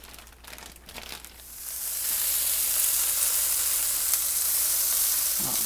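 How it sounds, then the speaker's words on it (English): Pork tenderloins are laid into hot oil in a pan, with some rustling at first, then a loud, steady searing sizzle that swells and holds close by, with no voices. "we're going to add oil to our pan. And we're going to add our pork tenderloins"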